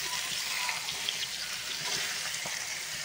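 Water poured into a pan of chicken adobo, a steady faint splashing gush lasting a few seconds with a soft hiss, close by and alone.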